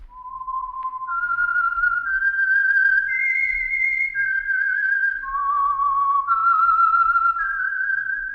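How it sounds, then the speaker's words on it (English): A lone melodic whistle for The Whistler radio program's Signal Oil theme, a clear, sustained tune stepping up and down in pitch over a quiet background. "That whistle is your signal for the Signal Oil Program, The Whistler."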